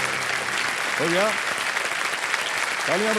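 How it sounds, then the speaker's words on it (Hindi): Studio audience on a TV quiz show applauds a contestant, a dense continuous clapping roar with a voice briefly speaking over it. "तालियां बजती रहें शिल्पा जी के लिए।"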